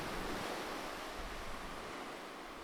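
Ocean waves wash steadily in a soft, continuous surf hiss with some wind noise, fairly faint and even throughout, with no voices.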